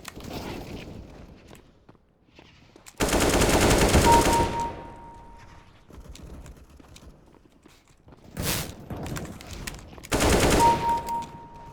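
Bursts of gunfire in CSGO, two loud sustained volleys separated by quieter shots and scattered clatter, with a final loud burst near the end.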